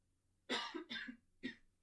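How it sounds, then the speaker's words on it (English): Three sharp coughs in quick succession from someone close by with a lingering cough, the second a double burst, with a short pause before the last. "I've got this cough that doesn't seem to want to go away"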